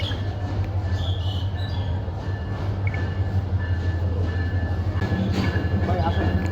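A Karnaphuli passenger train rumbles into a station in Brahmanbaria with a steady, heavy low drone and rolling wheel noise. People talk in the background over the continuous roar.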